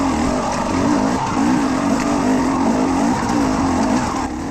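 An off-road motorbike chugs steadily uphill on a rough trail during an enduro event, its engine a loud, continuous, close low drone with a slightly wavering pitch, and no talk.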